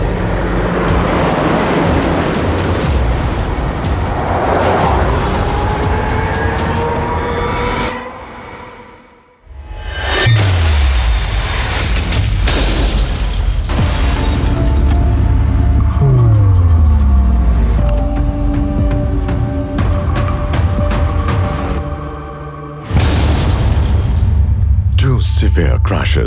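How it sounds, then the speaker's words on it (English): A Tata Tiago CNG undergoes a second high-severity side-impact crash test, loud rumbling and mechanical noise broken by sudden sharp impact bursts and a brief near-silence mid-clip. "The same car now faces a second high-severity side impact."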